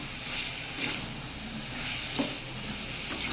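Bottle gourd sizzles and fries in a pan while being stirred, a steady close hiss with a few soft scraping stir sounds over about three seconds.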